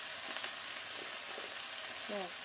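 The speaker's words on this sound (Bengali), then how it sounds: "আচ্ছা আগে একটু নাড়াচাড়া করে দেই নতুবা পেঁয়াজ রসুনটা আবার পড়ে যাবে" Onion and garlic frying in a pan, a steady broadband sizzle filling the clip with a few soft stirring scrapes and a brief faint voice-like tone near the end.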